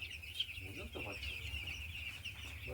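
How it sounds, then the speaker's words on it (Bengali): Chickens on a poultry farm, feeding and resting, cluck in short bursts close by over a steady high-pitched background drone. "আর এই যে মুরগিগুলো খাচ্ছে"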